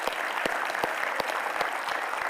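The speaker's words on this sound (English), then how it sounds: "How about a big round of applause?" Audience applause closing out a community leadership event, a steady wash of many hands clapping at moderate volume with no talk over it.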